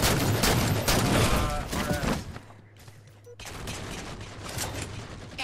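Dense bursts of automatic gunfire in a Halo 4 two-on-two capture-the-flag match, loud and continuous at first, briefly thinning to near quiet before the shooting resumes steadily.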